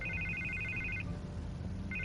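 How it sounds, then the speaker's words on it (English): A telephone ringing with an electronic trill, a fairly quiet ring burst lasting about a second, a pause, then the next ring starting. "I can't get the phone to stop ringing"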